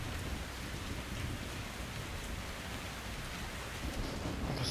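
Steady rain hisses during a thunderstorm in the video game Metro Exodus, a dense, even wash of falling water with low thunder rumbling underneath, continuous and without voices.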